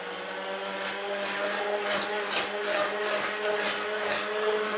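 Electric whisk beating cream in a cold bowl for Eton mess, a steady mechanical whir with faint rhythmic scraping that runs continuously at moderate volume.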